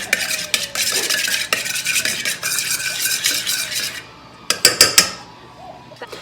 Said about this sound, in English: And then I'll use just a clean spoon or a fork just to kind of lightly beat that up.